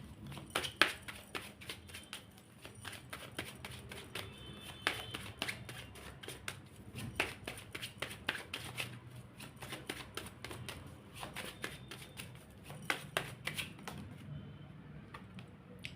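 Tarot cards are shuffled in rapid bursts of crisp, papery snaps and riffles that repeat through the stretch, quiet and close.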